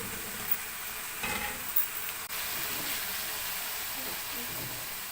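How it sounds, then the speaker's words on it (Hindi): Chicken malai handi fries with spices in a pot, a continuous close sizzle and hiss with occasional stirring scrapes and one sharp clack. "अब इसकी भुनाई करते हैं, 5 मिनट तक इसकी भुनाई करेंगे।"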